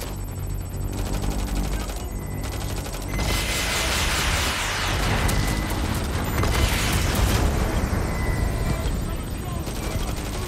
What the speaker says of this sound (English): Niall, who's shooting at me?